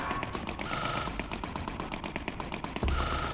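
In the Oddworld: Abe's Exoddus video game, enemies fire at the player in rapid bursts that run almost without a break, with louder blasts near the end and no talking.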